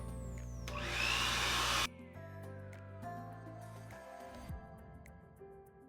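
Handheld hair dryer fitted with a concentrator nozzle blows a loud, steady whoosh over gel-set hair, cuts off abruptly, and leaves quieter ticking and faint rustling.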